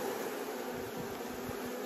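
Honeybees swarm at a hive while a newly emerged white queen is placed directly among them, producing a steady, dense buzzing that fills the whole moment without a break and stays fairly low in level.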